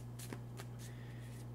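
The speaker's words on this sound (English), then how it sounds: "I am shuffling the cards now." Magic: The Gathering cards being shuffled by hand, a few quick papery riffling bursts close up over a steady low electrical hum, with no talking.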